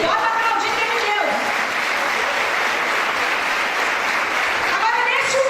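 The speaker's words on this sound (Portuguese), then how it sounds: "Agora, querido, bota para aplaudir de Deus" A church congregation bursts into sustained applause, dense and even from start to finish, while a preacher's voice briefly rises over it at the beginning and end.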